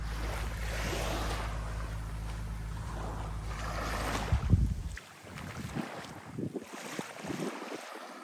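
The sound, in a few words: waves on the beach at Delnor-Wiggins State Park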